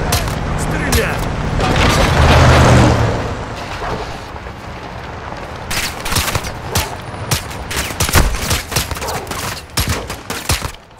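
A cartel patrol shootout in Call of Duty: Modern Warfare II opens with a rumbling blast, then rapid gunshots follow in dense, uneven bursts close by, with some talk in the mix.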